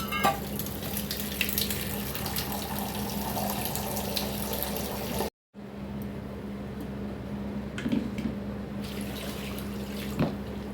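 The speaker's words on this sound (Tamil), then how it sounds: "தண்ணி ஊற்றி விட்டு" Water runs steadily from a tap into a pot of chicken, a continuous splashing rush that cuts out briefly, then resumes with a few clinks.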